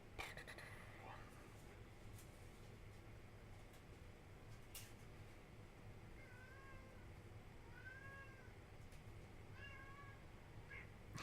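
A cat meows several times, soft and fairly distant, short rising-falling calls spaced out over steady low background noise, with quiet whispering or faint talk around it.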